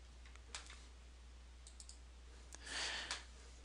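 A few crisp computer mouse clicks, sparse and close, over a steady low electrical hum in a quiet room with no talking.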